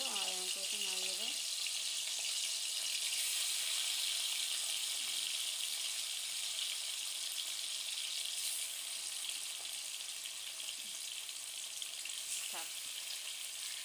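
Hot oil sizzles steadily in a pan during a village morning's cooking, a dense continuous hiss that runs throughout, with a brief voice at the start and faint clinks and movements underneath.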